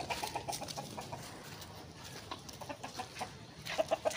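Chickens cluck faintly in a farmyard, a few short clucks scattered through steady background noise, with a brief cluster of sharper calls at the end.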